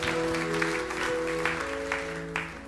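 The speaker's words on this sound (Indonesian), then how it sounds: "tepuk tangan yang meriah untuk kemuliaan Tuhan" Congregation applause fills a church, a steady bed of clapping with a few sharper swells, while sustained organ-like tones run underneath throughout.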